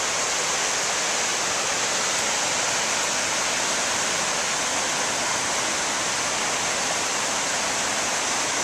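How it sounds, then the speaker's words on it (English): Johnson Falls roaring, a constant loud hiss of heavy falling water heard up close on a forest trail, steady and unbroken throughout with no talk. "Water's really roaring down there today."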